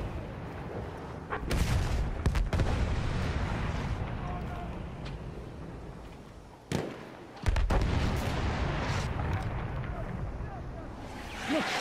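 Gunshots in a shooter video game, several sharp, loud bursts standing out over a steady bed of in-game background noise.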